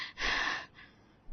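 A woman gasping out of breath after running, one long strained breathy exhale up close, then a brief pause and the start of another sharp breath.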